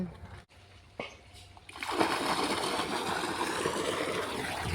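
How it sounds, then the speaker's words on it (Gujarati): Near silence with a few soft knocks, then a sudden loud rush of water gushing from an irrigation pipe on a farm that keeps flowing strongly to the end. "ચાલો તો પાણી આવી ગયું છે"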